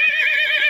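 Horse in a video game gives a loud, close whinny, one continuous wavering neigh filling the short moment with no voices over it.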